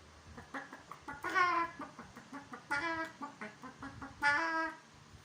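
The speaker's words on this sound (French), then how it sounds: "La poule cacaille." A hen cackles in repeated bursts of rapid clucks, rising to three loud squawking peaks, close and alone with no talking.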